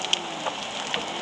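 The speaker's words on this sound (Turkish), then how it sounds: "Evet ATS'de bile bu tarz yağmur yok arkadaşlar." Rain falls in a Turkish bus simulator game, a steady, close, dense hiss of drops with a few brief louder patters over the constant wash.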